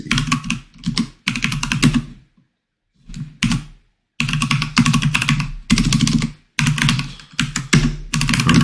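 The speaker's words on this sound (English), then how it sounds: "so I have to type it myself" Rapid bursts of typing on a computer keyboard while coding a React expense tracker app, loud and close, with brief pauses between runs of clattering keystrokes.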